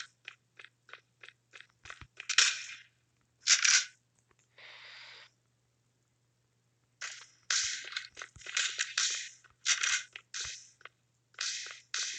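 MAC 10 submachine gun fire in the video game Kuboom, with rapid bursts of short, crackling shots that break off and resume several times. The bursts are loud and close and stand alone with no talk.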